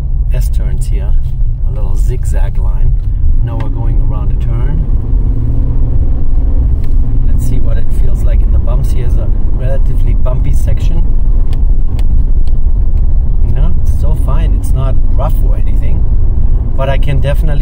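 A Nissan Frontier pickup truck with Sumo Springs on its leaf springs drives and rounds a turn, giving a steady loud road rumble and engine drone heard from inside the cab.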